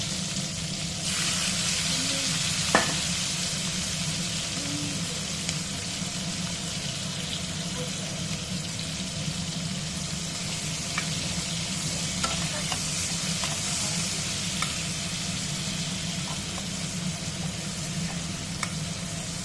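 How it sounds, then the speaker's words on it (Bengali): Chopped onions hitting hot oil in a pan and frying, a constant dense sizzle with a low hum from a kitchen chimney fan beneath, plus occasional faint clinks, steady throughout with no talking. "তেলটা আমার গরম হয়ে গেছে এবার দিয়ে নিলাম কাটা পেঁয়াজগুলো"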